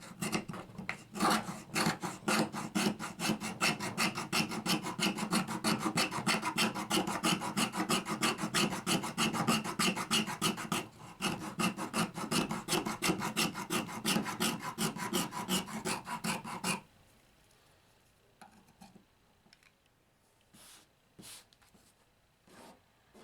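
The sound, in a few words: Old Hickory knife fuzzing fatwood into shavings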